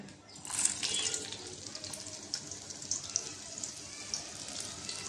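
Whole spices, cardamom, cinnamon, cloves and black pepper, frying in hot oil with chopped onion for a chicken and potato curry, giving a steady close crackling sizzle with bright spitting pops throughout.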